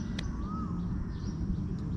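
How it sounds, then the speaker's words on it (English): Crows caw and other birds call outdoors in rural Thailand under cloudy skies, with scattered calls over a steady low background hum. "listen to the birds"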